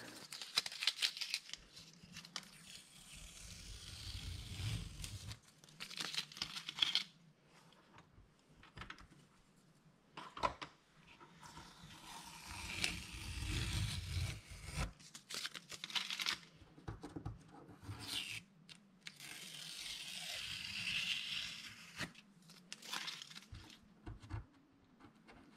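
Masking tape is peeled off the edges of a finished cauliflower painting in close, crinkly tearing strips that come in bursts with quiet gaps between them.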